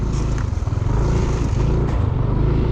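A Yamaha NMax 155 scooter from 2017 pulls away and rides off on a road, its engine drone loud and steady and fading slightly over a few seconds, with no talk.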